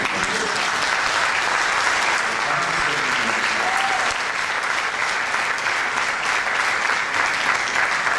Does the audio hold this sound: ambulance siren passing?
no